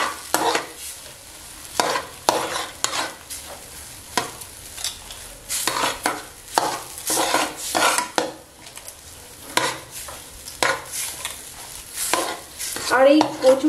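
Lentil filling for bedmi puri, made with moong dal, being stirred and fried in a pan over a low flame: repeated close scraping strokes of a spatula against metal over a faint sizzle, in an irregular rhythm.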